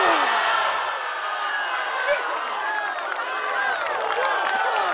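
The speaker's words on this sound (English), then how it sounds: "A little golf clap." Spectators at a women's amateur golf match giving a soft, steady patter of polite applause that sustains evenly and moderately loud, with faint crowd murmur beneath.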